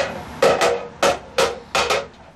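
Several sharp metallic hammer strikes ring out on a silver plate being shaped into a kettle, in an uneven rhythm, each blow bright and ringing briefly before fading.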